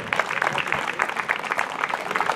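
Steady, dense audience applause at an outdoor horse-track celebration in Flores, a continuous patter of many hands clapping at moderate volume with no voices standing out.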